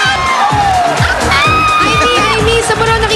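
A game-show studio audience cheers and shouts, with whoops and excited voices layered into a loud, continuous crowd roar, close and full throughout.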